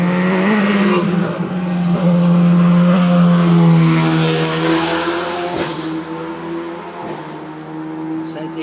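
A Dallara F305 race car, evolution 307, screams up a hill climb course at La Membrolle–Fondettes, its engine note loud and sustained, rising and then easing off as it passes.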